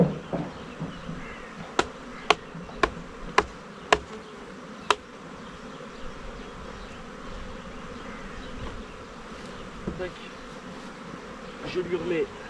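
Honey bees buzz around a hive during spring honey harvesting, a continuous low drone; a run of sharp taps sounds early on, and faint handling noises come later.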